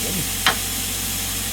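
Steak frying in a pan, with a loud, close, continuous sizzling hiss and one brief sharper crackle near the start.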